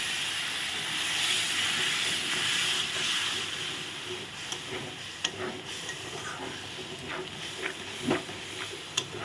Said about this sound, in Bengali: এখন আমি দিয়ে দিব একটু বাটিটা ধুয়ে জল দিয়ে দেবো মশলাটা ভালো করে কষিয়ে নেব